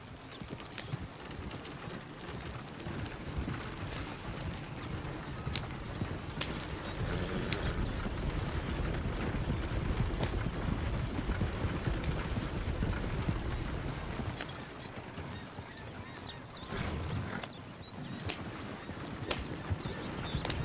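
Horse hooves clip-clop in a steady rhythm for Red Dead Redemption 2 riding, loud and continuous with background ambience, dipping briefly in the middle before the hoofbeats resume.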